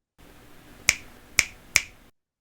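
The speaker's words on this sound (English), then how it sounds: "3 snaps for attention span." Three crisp finger snaps, close and distinct, spaced about half a second apart against quiet background hiss.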